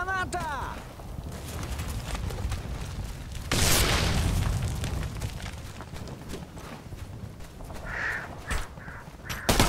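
A grenade explodes in Operation Flashpoint: Red River, a loud broadband blast bursting out partway through amid continuous military game noise and radio-style voices talking.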